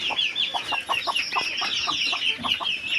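Backyard free-range native Bengali chickens, a flock of hens, cluck steadily while pecking at crushed eggshells. Short, rapid clucks repeat close by, overlapping with higher chirping calls, with no talking.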